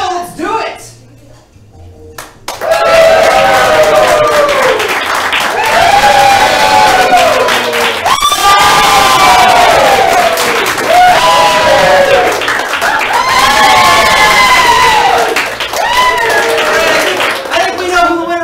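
A live improv comedy audience at a St. Pete show cheers, shouts and claps loudly for a contestant in long roaring bursts, a dense crowd noise that swells and dips, with a host's voice briefly at the start.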